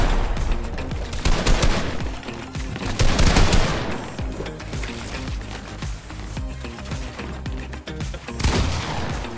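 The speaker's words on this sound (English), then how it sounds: "Got some shots fired." Gunfire in an Unreal video game match, bursts of rapid shots and booms coming in clusters across the stretch, loud and busy with no talk.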